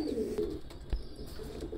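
A pigeon, a new adult bird of a throated breed, coos softly in a low burbling call, close by over faint background noise, with no talking.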